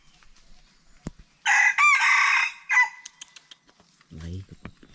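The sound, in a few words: chicken, rooster crowing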